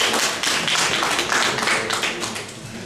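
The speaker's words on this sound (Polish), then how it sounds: "Wielkie brawa." Enthusiastic audience applause at a literary festival evening in Świdnica, a dense steady wash of many hands clapping, loud and continuous throughout, fading slightly at the end.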